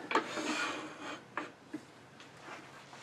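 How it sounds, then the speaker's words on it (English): A 3/8 inch bowl gouge rounds off the shape of a wooden piece spinning on the lathe, giving a soft, quiet scraping rasp with a few brief harder cuts. "I'll use a smaller 3/8 inch bowl gouge. And just come in and just round it off slowly."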